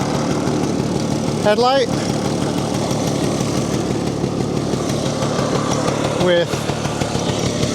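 A 1968 Vespa 150 Sprint two-stroke scooter engine idles steadily with a continuous close putting rumble, while someone talks over it throughout.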